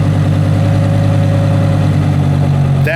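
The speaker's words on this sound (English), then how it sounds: "the mode that it's operating in right now, it's idling in, is Corsa." A Lamborghini Huracán EVO idles in Corsa mode with a steady, loud, deep burbling hum that holds even and unbroken, heard close with no talking.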